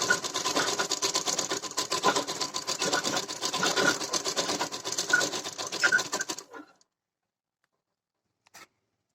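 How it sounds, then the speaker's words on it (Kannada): A sewing machine stitches a blouse design in a steady, rapid rattling run, close and even, then stops abruptly into silence with one faint click near the end. "ಸೊ ಅದೇ ರೀತಿ ಡಿಸೈನನ್ನು ನಾನು ಇಲ್ಲಿ ಸ್ಟಿಚಿಂಗ್ ಮಾಡ್ತಾ ಇದ್ದೀನಿ"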